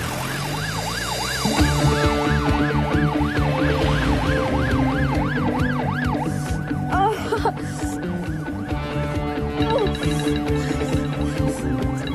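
An ambulance siren wails close and loud in a repeating rising-falling pattern, shifting partway through to a faster yelp before returning, with steady engine and traffic rumble underneath.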